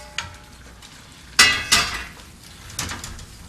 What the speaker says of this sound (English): And then we're going to add the mushrooms. Stir them around.